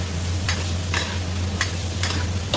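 Meat and scallions stir-fry in hot oil in a wok, a loud continuous sizzle broken by several rhythmic scraping tosses of the spatula over a low steady hum.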